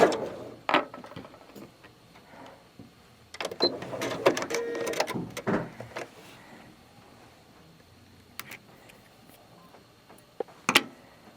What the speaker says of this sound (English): and continue to sew